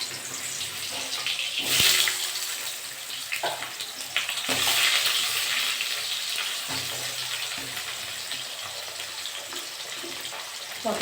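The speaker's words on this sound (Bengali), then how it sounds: "ওই তেলে আমি আলুগুলো ভেজে নেব।" Potatoes frying in oil left over from frying prawns, a steady loud sizzle with a watery hiss that swells briefly at a few moments as the pieces are stirred, with no voices.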